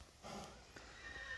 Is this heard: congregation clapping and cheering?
no